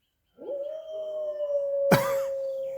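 Dogs howl in response to a passing ambulance siren: one long, steady, wailing howl holds for a couple of seconds, broken near the end by a sharp yelp or bark, all heard close by with no talking.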